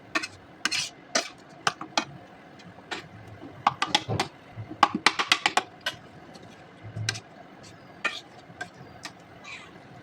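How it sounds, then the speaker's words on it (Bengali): A spoon stirs meat khichuri, rice with meat, in a cooking pot, making scattered scraping and clinking knocks in an uneven rhythm, close and moderately loud, with no one talking. "এই অবস্থাতেই আমি এটা ঘেটেও দিচ্ছি একটুখানি"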